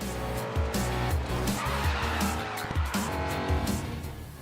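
Racing cars in the Grid Autosport video game roar loudly and continuously, with engine notes rising and falling and tires squealing and skidding through the whole stretch.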